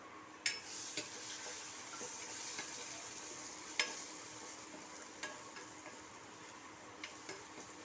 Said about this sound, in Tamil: பொடி வகைகளை சேர்த்து வதக்கும் போது அடுப்பை லோ ஃப்ளேமில் வச்சுக்கணும். 1 நிமிஷத்துக்கு நல்லா வதக்கிக்குவோம்.